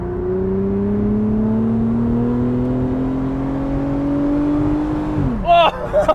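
A 2002 Plymouth Prowler accelerates at full throttle, its engine note climbing steadily and loudly from inside the car for about five seconds before the revs drop at a shift. A voice follows right after.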